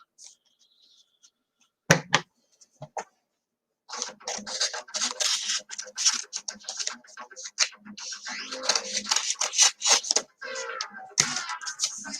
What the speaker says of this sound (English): we have an inner envelope that has been sealed. So I'm going to have to cut this one open too.